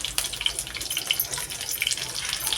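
Green chillies dropped into hot oil already holding garlic, in a North Karnataka home kitchen, give a steady close hiss of sizzling oil scattered with small sharp pops and crackles, with no voices.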